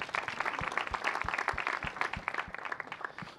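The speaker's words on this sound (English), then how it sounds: "let's have another round of applause for Mike and his team" A crowd applauds at the reopening of an outdoor basketball court, steady dense clapping at moderate distance with a few sharp individual claps standing out.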